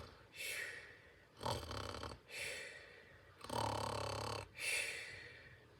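A narrator's voice imitates a child snoring in a bedroom scene, giving five drawn-out, raspy snores in a steady rhythm, each followed by a short pause.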